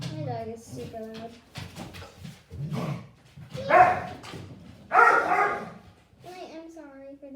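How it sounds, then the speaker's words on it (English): A dog barks loudly and repeatedly indoors in short bursts near a home DIY workspace, with a person talking between and over the barks. "dog is super loud."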